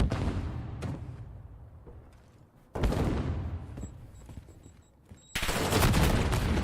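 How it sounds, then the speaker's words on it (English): Rapid bursts of gunfire from an esports video game match come in loud clusters separated by quieter gaps, ending in a dense sustained volley. "Nice shots from Insight"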